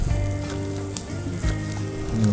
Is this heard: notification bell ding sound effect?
no